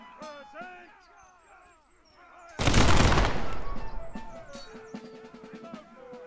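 Musket and cannon fire in the battle game Prime & Load 1776, a sudden loud blast that rolls into a long crackling volley and fades, with someone talking before it and game sounds after it.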